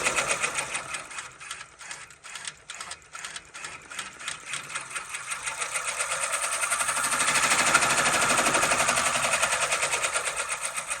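An embroidery machine stitching out a logo with satin stitches, a fast mechanical rattling hum with rhythmic needle pulses that speeds into a steady dense buzz, close and fairly loud.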